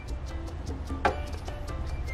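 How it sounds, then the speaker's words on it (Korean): An air fryer's mechanical timer dial ticks in a steady, even rhythm, close and fairly quiet, about a dozen ticks, with one slightly louder click partway through. "에어프라이기 모드로 돌려줄게요"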